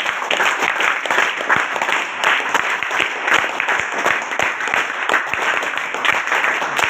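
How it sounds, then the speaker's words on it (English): Audience applause breaks out for Miss Nitya Shri, steady clapping from a crowd that stays loud and dense for the whole stretch, with no voices over it. "Once again, big round of applause."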